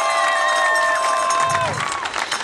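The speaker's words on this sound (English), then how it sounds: "please give a big round of applause for them." A crowd cheers and applauds for cancer survivors at a Relay For Life opening ceremony, a steady roar of voices with high, sustained whistle-like tones riding over it before fading slightly.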